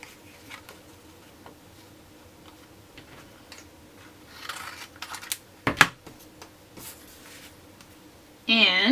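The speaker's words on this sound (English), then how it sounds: "I'll just cut it like that just in case I want to use this for something else." Scissors cut paper for a scrapbook layout: faint, sparse snips and paper rustles over a quiet room, with a cluster of sharper cuts midway and a voice starting briefly at the end.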